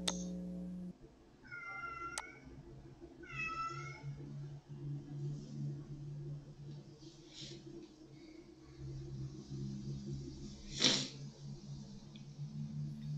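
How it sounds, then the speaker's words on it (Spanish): A cat meows twice in quick succession near the start, with a later faint sound, over a low background hum and some quiet voices in the distance. "¿Es un gato?"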